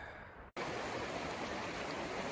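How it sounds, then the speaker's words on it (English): A river near Pecos, New Mexico rushes steadily in a broad, loud wash of flowing water close by. A brief cut interrupts it early on, and no one speaks. "I'm gonna head down to the river, have to cross it again"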